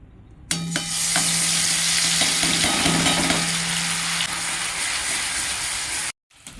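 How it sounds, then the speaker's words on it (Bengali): Ginger, garlic and onion paste drops into hot oil in a kadai for an egg curry, bursting into a loud, sudden sizzle that then holds as a dense, continuous crackling hiss. "কড়াতে দিয়ে দেবো আদা, রসুন ও পেঁয়াজ বাটা"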